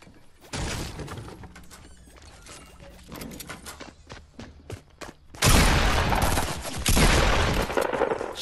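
In the Fortnite video game, assault rifle fire comes in sharp, rapid bursts of shots, then a louder, denser stretch of gunfire takes over partway through, with no talking.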